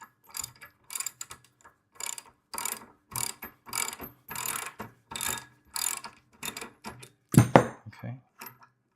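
Ratchet wrench loosening 18 mm bolts on the handle of a VEVOR gas plate compactor, heard as repeated bursts of close clicking strokes with short pauses between them and a louder clank near the end.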